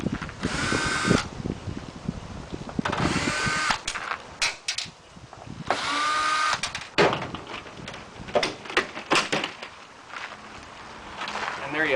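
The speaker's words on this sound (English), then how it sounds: "This one's got a few screws in it we're going to have to remove," A power drill removing screws from a Fresnel lens frame whirs in several short bursts, starting and stopping repeatedly, close by, with a few clicks and knocks between runs.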